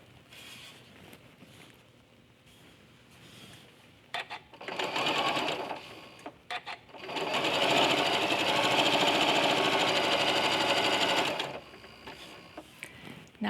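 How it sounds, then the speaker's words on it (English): Home sewing machine chain piecing quilt pieces, running in a short burst and then a longer steady whir of rapid stitching lasting several seconds, close and loud, with quieter pauses around it and no talking. "I'm going to start by sewing the first two pieces of the second row."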